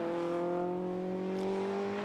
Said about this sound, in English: the Class B cars are just coming past our commentary box